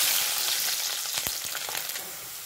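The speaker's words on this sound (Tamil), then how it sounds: "ஒரு 10 வெள்ளைப்பூண்டை லேசாக தட்டிட்டு தோல் உரிச்சிட்டு இந்த எண்ணெயில் போட்டு பொரித்து எடுத்துடலாம்" Garlic cloves and curry leaves sizzle and crackle steadily in hot oil, a close, continuous frying hiss with small pops and no voices.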